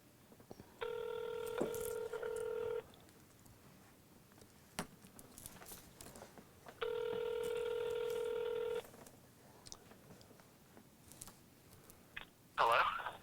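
Two bursts of rapid touch-tone telephone dialing beeps, each about two seconds long, separated by a quiet pause in a recording studio, followed by a short sharp sound at the end.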